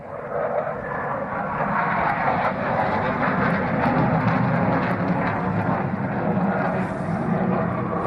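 Dassault Mirage 2000 jet at the Dubai Airshow, a loud continuous engine roar that holds steady throughout, with broad rumbling thrust and no talk.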